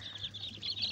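Wyandotte chickens cluck softly in a backyard poultry pen, a faint run of short, repeated clucks over low background noise.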